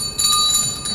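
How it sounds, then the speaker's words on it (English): Bell ringing at a dedication event, marking the end of a speaker's allotted time; a single sustained metallic ring about a second long with bright overtones, fairly loud and with no talk over it. "Oh, that's the second bell. That means my time is over."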